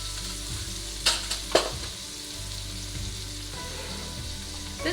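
Ground turmeric, garam masala and cumin powder fry in a hot pan for calabash squash with shrimp or lamb, a steady low sizzle with a few sharp stirring scrapes near the start, no talking.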